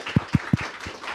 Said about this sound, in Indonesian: Kita berikan tepuk tangan untuk Pak Saleh.